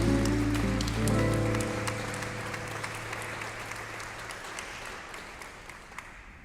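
Applause from a jazz audience for a vocalist, bassist and guitarist rises as the last sustained notes of the band ring out, then continues as steady, moderately loud clapping that slowly thins.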